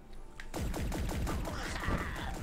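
Gunfire in the video game Sleep Tight: after a brief quiet start, a rapid, dense volley of shots rattles on steadily and loudly for about two seconds.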